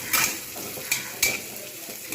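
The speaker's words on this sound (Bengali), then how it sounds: "পেঁয়াজটাকে একটু ব্রাউন করে ভেজে নিলাম।" Chopped onion frying in a pan for a banana stem stir fry, a steady broad sizzle with a few sharp scraping stirs of a utensil against the pan, close and fairly quiet, with no talking.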